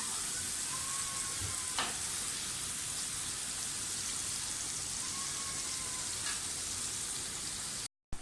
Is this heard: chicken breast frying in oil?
yes